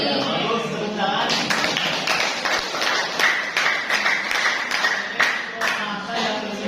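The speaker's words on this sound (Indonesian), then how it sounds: "Ya, bagus, tepuk tangan." A high school class claps hands in a sustained burst of fairly close, busy clapping with distinct individual claps, while voices carry on beneath it.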